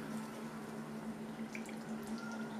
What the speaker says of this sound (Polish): Galaretkę będziemy zaparzać w 200 ml wrzątku. Zalewam wrzątkiem.